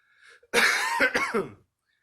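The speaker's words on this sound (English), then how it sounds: "coughing is kind of inevitable because I can't get rid of it" A single harsh cough from a sick person bursts out close to the microphone, a rough throat-clearing hack lasting about a second, with quiet before and after.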